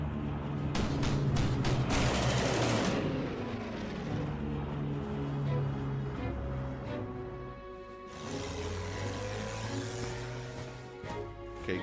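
Artillery fire and battle effects in the World War II strategic wargame Hex of Steel, set in North Africa: a dense, loud, continuous rumble with sharp bursts early on and a bright broadband surge later, no speech.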